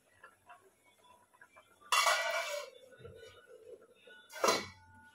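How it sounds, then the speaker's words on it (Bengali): A metal lid clatters twice onto a pot of boiling eggs and potatoes, first with a longer rattle and then a shorter clank, over a quiet kitchen background. "ঢাকনাটা দিয়ে রাখলাম ভালোভাবে সিদ্ধ হোক।"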